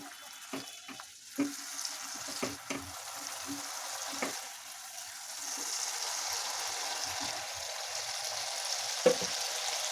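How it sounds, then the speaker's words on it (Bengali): Spice masala fries with a splash of water over medium heat for a fig curry with coconut milk. A steady soft sizzle hisses throughout, broken early by a few sharp spoon clicks and stirring scrapes against the pan. "কিছুটা পানি দিয়ে এই মশলাটা খুব ভালোভাবে কষিয়ে নিতে হবে"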